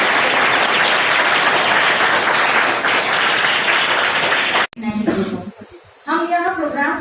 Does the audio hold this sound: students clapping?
yes